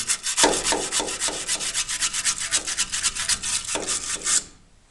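A brush scrubs a body panel of a 1976 Simca 1100 under restoration, giving a run of quick, loud, rhythmic strokes that stop abruptly near the end. Nobody speaks.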